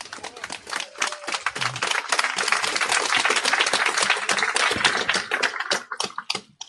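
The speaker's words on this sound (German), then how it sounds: "Applaus" Audience applause at an outdoor Monday peace vigil demonstration in Klagenfurt: dense, sustained clapping from a crowd that swells, holds, then thins out at the end.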